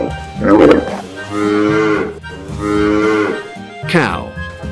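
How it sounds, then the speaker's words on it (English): A cow moos three times in a row, long, low and loud, each call drawn out with short gaps between. "Cow."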